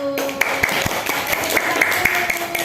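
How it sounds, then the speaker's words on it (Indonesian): Sparse, evenly spaced handclaps from a small audience in a school classroom, applauding presentation group 1. The claps are sharp and moderately close, with a hum and room murmur underneath. "Tepuk tangan untuk kelompok 1."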